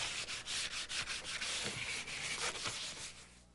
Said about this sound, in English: we've got some 100 grit garnet paper, and we're just going to begin sanding lightly just to rough it up a little bit